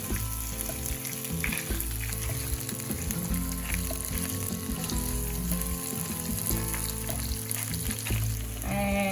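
Onion, garlic and chiles shallow frying in a pan for birria, a loud, steady sizzle and crackle that runs unbroken throughout, with faint clinks of a utensil stirring now and then.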